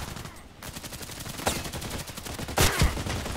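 Gunfire in a sniper-rifle shooter video game: a few sharp, loud shots and short bursts crack over steady background battle noise, with one cluster near the end.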